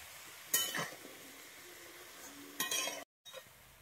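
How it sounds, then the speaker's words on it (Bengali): Pumpkin greens stirred with salt and turmeric in a pan, two short scraping bursts of a utensil against metal over a faint sizzle, with a brief clink near the end. "দিয়ে আমি আবারও ভালোভাবে লবণ আর হলুদটাকে মিশিয়ে নিচ্ছি।"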